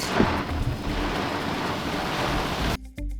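Heavy rain pouring down in a forest in the middle of Réunion Island, a dense, steady hiss that stays close and loud for several seconds before it suddenly drops off, then briefly returns.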